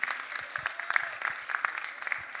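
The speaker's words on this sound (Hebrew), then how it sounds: "כל הכבוד. מגיע להם הרבה כפיים." Audience applause at a school graduation ceremony, a steady patter of many hands clapping at moderate volume, continuous for a couple of seconds with no talk over it.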